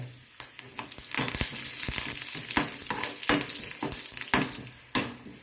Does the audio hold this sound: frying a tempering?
yes